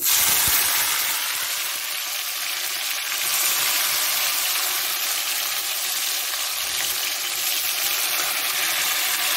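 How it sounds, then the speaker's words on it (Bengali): Chopped tomatoes hitting hot oil with fenugreek-heavy five-spice for Assamese fish tenga, giving a steady, loud broadband sizzle that holds evenly throughout with no talk. "কাটা টমেটোগুলো দিচ্ছি।"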